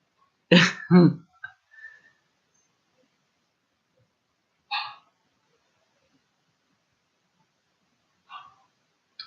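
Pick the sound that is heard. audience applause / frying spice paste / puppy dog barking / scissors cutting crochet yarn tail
puppy dog barking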